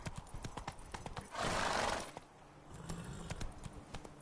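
Roach, a horse in The Witcher 3, gallops with rapid rhythmic hoofbeats close by, and a louder rushing burst briefly swells over the hooves midway.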